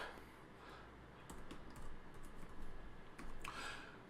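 Quiet, quick keystrokes on a computer keyboard as a short file name is typed, a brief irregular run of soft clicks with no talking.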